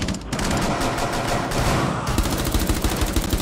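Rapid gunfire in a Rainbow Six multiplayer match on Xbox One, shots fired through a wall, a dense, loud burst of repeated cracks and rattling automatic fire lasting the whole stretch, with no talk over it.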